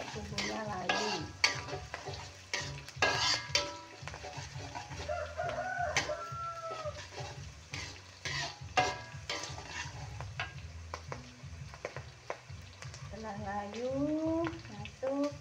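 Spices stir-fried in a pan until wilted, with a steady sizzle and scraping strokes of a spatula throughout, a rooster crowing now and then in the background and a voice speaking briefly.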